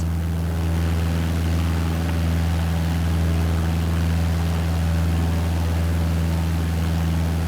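A propeller airplane's engine drones steadily and loudly in Microsoft Flight Simulator, a constant low hum with no breaks and no voices.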